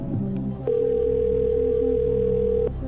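A game show phone-a-friend call connects with a steady telephone dial tone held for about two seconds, loud and clean, framed by brief clicks at its start and end.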